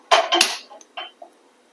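A tava griddle is set down on a gas stove while making Maharashtrian puran poli: a burst of metallic clanks and clatter up front, followed by a few small, quieter knocks, close by.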